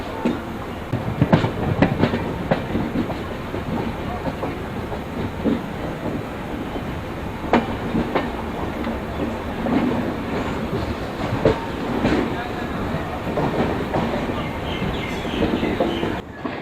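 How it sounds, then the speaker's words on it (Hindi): A passenger train rolls into New Bongaigaon Junction in Assam, its wheels clattering steadily over the rail joints with a rhythmic clickety-clack at moderate loudness and the occasional faint squeal. "तो अब ये हमारी ट्रेन खूबसूरत जर्नी करते हुए असम के एक बहुत ही इम्पोर्टेंट रेलवे स्टेशन न्यू बंगाई"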